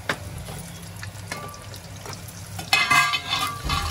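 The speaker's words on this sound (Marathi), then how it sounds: "थोडीशी लसूण थोडी ब्राऊन करून घ्यायची." Crushed garlic and curry leaves sizzle in hot oil in a pan for a Malvani crab curry, a close frying hiss under light stirring scrapes, rising into a louder, sharper crackle partway through.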